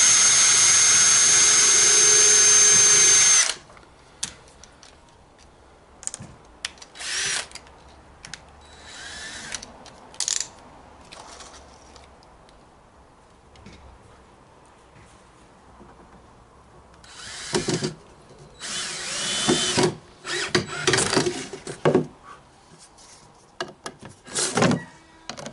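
A power drill whines steadily and loudly for a few seconds while building a baseboard, then stops, followed by scattered knocks and handling noises.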